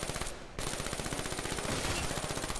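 Rapid automatic fire from the Draken in Call of Duty Black Ops III zombies, a loud, steady stream of shots that drops out briefly near the start and then resumes without a break.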